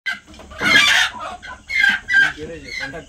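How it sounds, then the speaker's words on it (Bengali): Farmed chickens, not village birds, at a Sundarbans farm cluck close by in several loud bursts, with quieter clucks and murmurs between the calls. "এটা গ্রামের মুরগি না, চাষের মুরগি"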